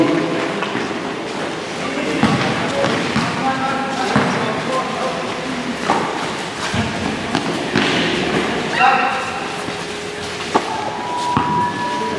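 At a Chuuk basketball tournament game, a basketball is dribbled on the court with irregular thuds and bounces, set against crowd noise and a commentator talking over the play.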